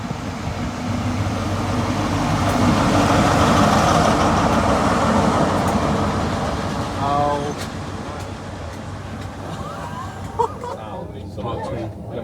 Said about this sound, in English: Here I am departing Par on the last ever Great Western Railway Castle Set HST service between Penzance and Plymouth